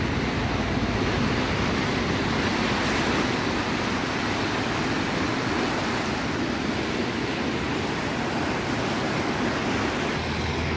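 The Tlapaneco river near Atlamajá in the aftermath of Hurricane John, swollen and rushing. It comes through as a constant, loud, broadband roar of churning water that runs unbroken throughout, with no voices over it.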